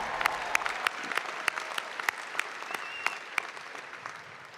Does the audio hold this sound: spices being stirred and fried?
no